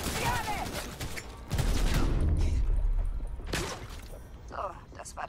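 Bursts of gunfire in a desert firefight in Cyberpunk 2077, with a dense barrage mid-clip and a German voice talking over the shots.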